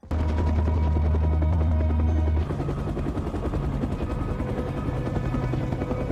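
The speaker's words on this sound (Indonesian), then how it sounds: "Dari ketinggian, Van berhasil melihat Joy, lalu helikopter pun turun menolongnya." Steady, loud chopping thrum of a helicopter's rotor, close and continuous, with a deep engine drone that shifts partway through.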